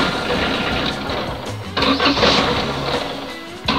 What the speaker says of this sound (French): Allez, on va la démarrer.